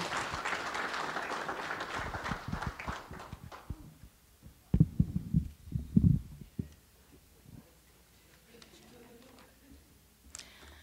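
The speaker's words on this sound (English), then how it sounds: "let's give one more round of applause for our 2023 Hall of Fame class" A brief round of applause for a 2023 Hall of Fame class at an induction ceremony, clapping that swells early and fades within a few seconds, followed by scattered claps, thumps and quiet room noise.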